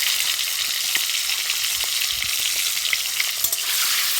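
Eggs frying in hot oil for egg curry, a loud, dense, continuous sizzle with scattered crackles and pops, close by and without voices.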